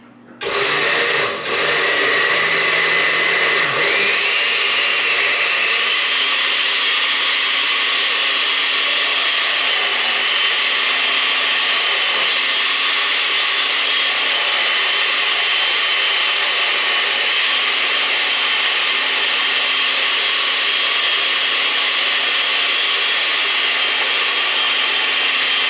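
A blender purees butternut squash soup, whirring loudly and steadily, its motor settling into a constant high-pitched drone that runs on without pause.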